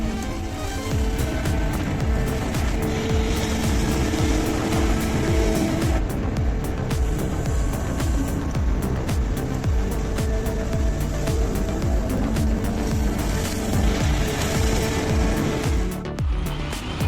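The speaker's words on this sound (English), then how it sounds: "The huge truck roared as it plunged into the muddy road like boiling oil." A huge off-road truck's engine roars continuously as it plunges along a muddy dirt road, a dense, rumbling drone with crackling mud and splashing textures throughout, loud and close, with no voices.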